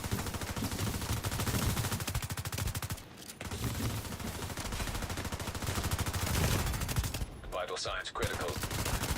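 Sustained video game gunfire, rapid automatic bursts filling nearly the whole stretch with brief gaps, loud and close, a short in-game voice line breaking in near the end.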